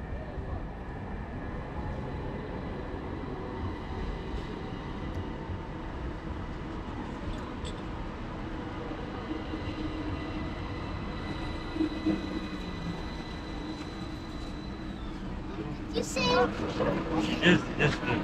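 Train ride in Istanbul, a steady rumble of a rail car in motion with rising clatter and squeal toward the end, with speech mixed in.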